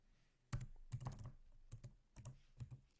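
Keys clatter on a computer keyboard in short bursts of quick presses, with tab and enter keys struck among them, close and fairly quiet with small pauses between groups.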